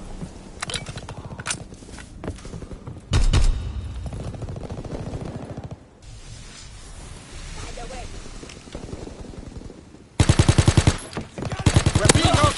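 Call of Duty WW2 gunfire crackles in rapid automatic bursts, loud and close, with a sharp heavy burst early and another cluster near the end, under in-game radio voices.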